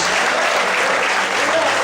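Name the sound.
congregation applauding in church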